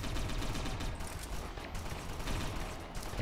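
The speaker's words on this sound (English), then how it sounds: "They're all shooting pistols." Guards fire pistols in rapid, overlapping bursts during a firefight in the game Satellite Reign, a dense, continuous crackle of gunfire with mechanical clatter throughout.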